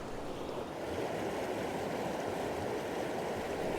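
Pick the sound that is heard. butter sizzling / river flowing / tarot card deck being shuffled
river flowing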